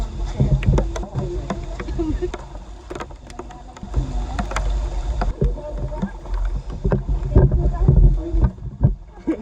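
A boat motor drones steadily up close near Cagwait Beach, with wind buffeting the microphone and people talking over the engine noise.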